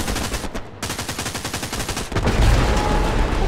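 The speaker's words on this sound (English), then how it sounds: "Oh, I got it with the mine!" An anti-tank mine blows up under a tank in the war game Hell Let Loose, a loud, heavy boom breaking through rapid gunfire that rattles on without pause.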